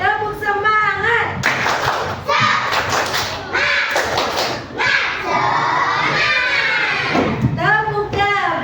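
A group of children claps in rhythm while chanting and shouting together at close range, with sharp hand claps and thumps mixed into loud young voices.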